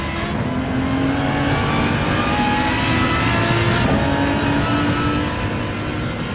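Engines of virtual race cars roar continuously around Interlagos in a racing video game, a Peugeot RCZ running close ahead in the slipstream; a steady, loud droning whine that never lets up.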